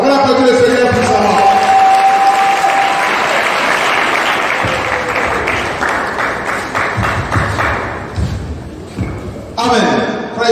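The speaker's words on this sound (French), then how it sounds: "On applaudit le Seigneur pour ça" A congregation at a Sunday church service applauds, with sustained crowd clapping and cheering mixed with voices and a held musical tone, fading toward the end before a voice speaks again.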